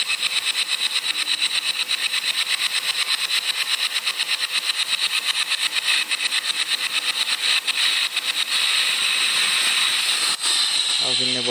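A grinder works the reed valve housing of a 3-port two-stroke engine to enlarge it, producing a loud, continuous high-pitched hiss with rapid regular pulsing, up close.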